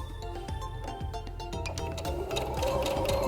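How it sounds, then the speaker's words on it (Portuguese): A sewing machine stitches a safety seam around quilting fabric in preparation for free-motion quilting, its needle ticking in a fast, even mechanical rhythm that speeds up slightly toward the end. "E passar essa costura de segurança a volta toda para facilitar no processo do quilting livre."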